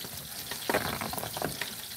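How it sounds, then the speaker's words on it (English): Chicken fried steak fries in a pan with a soft, steady sizzle and a few faint scrapes and bubbling pops, heard close but fairly quiet, with no talking. "It doesn't take long to cook steak."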